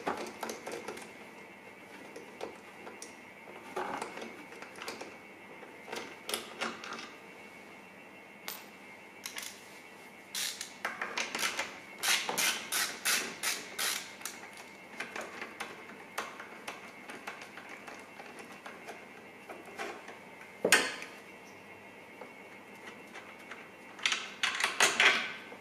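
A ratchet with a 12 mm socket clicks in quick bursts while backing out M8 bolts from the intercooler piping on a Civic Type R FK8, with scattered close taps and clinks in a quiet garage.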